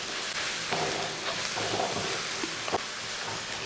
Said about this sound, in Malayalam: കറിവേപ്പിലയും കൂടി ഇട്ടതിന് ശേഷം ഒന്ന് ഇളക്കി കൊടുക്കുക